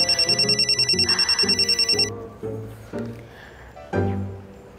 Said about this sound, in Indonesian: aku harus angkat telepon ini ya